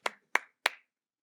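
Three crisp hand claps ring out at an even, unhurried pace, close and distinct, and the room falls quiet after the third.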